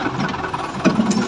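A tractor engine pulls a wheat seed drill across a field, heard as a brief, steady close-up rumble with a faint mechanical clatter.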